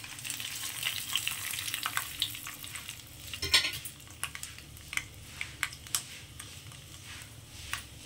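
Curry leaves, added after fenugreek seeds, sizzle in hot oil, a steady close crackle broken by sharp pops and spits, with a couple of louder bursts midway and no talking.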